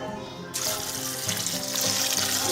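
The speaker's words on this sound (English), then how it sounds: "Adding water." Water from a tap pours into a pot of black-eyed peas, starting abruptly as a close, steady rushing splash that fills the pot and grows slightly louder.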